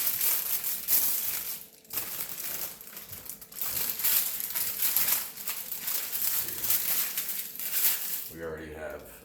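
Parchment paper crinkles and rustles as it is wrapped around butter cookie dough, close and continuous with irregular crumpling bursts and a faint voice near the end.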